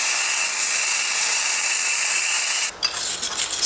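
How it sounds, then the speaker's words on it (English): A budget Amazon gasless flux-core welder lays a bead with a constant close, sizzling crackle and hiss, which breaks off briefly and then sputters on more unevenly. "I'm going to weld some more"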